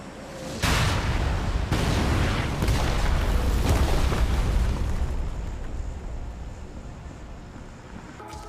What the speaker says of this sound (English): Constantly, loud sirens and loud bomb noises occupy the sound table of the map as buildings are blasted to oblivion